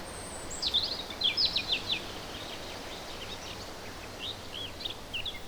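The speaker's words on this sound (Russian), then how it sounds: "Я слышу, как птицы поют." Birds sing in short, faint chirping phrases over a soft outdoor hush, bursts clustering early and again near the end, heard in a Russian audio film.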